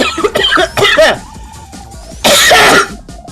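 A few sharp, close coughs from a player at a Sonic Mushroom Blast game showcase, in short bursts with a longer rough cough after a pause, with some voice sounds mixed in.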